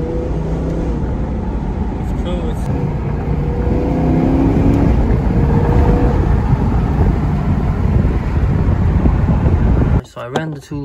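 A car fitted with a remote-controlled Valvetronic exhaust, valves closed and sounding near stock, pulls away with a loud, steady engine rumble that swells and then cuts off abruptly near the end, with a voice talking over it.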